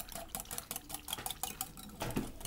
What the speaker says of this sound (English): But you could stir it, whisk it, beat it.